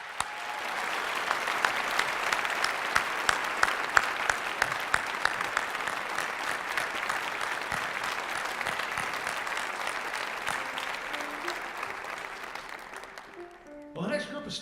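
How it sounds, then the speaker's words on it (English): An audience at a 2019 keyboard festival recital in Midland, Michigan, applauding a percussionist with sustained, steady clapping that fills the room and fades out near the end. "So would you please give a nice round of applause to our percussionist, Tom Ryden."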